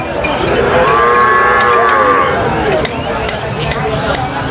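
A cow at a crowded cattle market lets out one long, loud moo, with the steady hubbub of the busy market and people talking around it.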